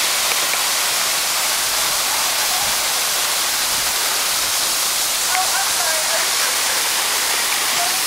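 A loud, steady rush of a waterfall fills the scene, a constant broadband roar with a few faint voices barely audible beneath it.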